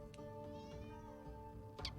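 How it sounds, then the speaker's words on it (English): A male cat meows loudly and repeatedly indoors, drawn-out tonal cries filling the room alone, without speech. "Wow, that's loud. That's a happy cat."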